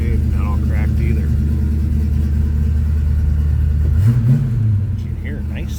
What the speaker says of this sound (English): You can hear a nice sounding engine